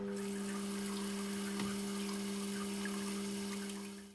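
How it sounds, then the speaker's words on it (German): TOTO Washlet RX/SX toilet running its gentle rear cleaning spray, a quiet continuous hiss of water over a steady electric pump hum that stops at the end. "Drücken Sie die Rear-Soft-Taste und es startet eine sanfte Reinigung."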